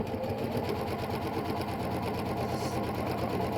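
A sewing machine stitches a quarter-inch seam on a quilt block, running steadily and close with a fast, even mechanical rattle for a few seconds.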